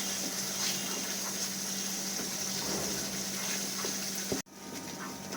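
Water poured into cooking masala for Kashmiri aloo dum: a steady close sizzle and bubbling wash of liquid hitting a hot pan, ending with a brief knock before the sizzle resumes.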